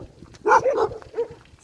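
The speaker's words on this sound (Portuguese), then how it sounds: "Uma cachorrada." Dogs bark at a passerby walking through a village on a Bolivian country road, a few close gruff barks in a quick cluster followed by one more yelp.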